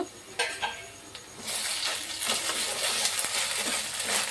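Onions with ginger-garlic paste fry in a pan for a Telugu small-fish curry. A few faint metallic clinks come first, then a steady, fairly quiet sizzle rises with occasional stirring scrapes.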